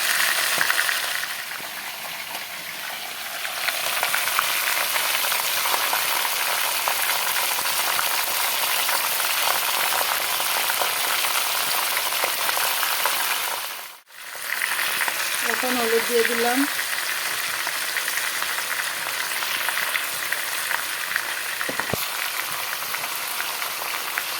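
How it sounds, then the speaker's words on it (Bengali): Chicken fries with spices in a pan, a steady loud sizzle that runs throughout, dipping briefly near the middle, with a short voice heard soon after. "চিকেনটাকে ঢেলে দিলাম এখন মশলা ঢেলে দেবো"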